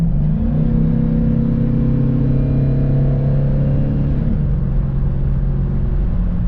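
A Chevrolet Tahoe truck with a drive-by-wire P59 engine revs hard and loud, its tone rising and holding for several seconds before dropping back to a lower steady rumble.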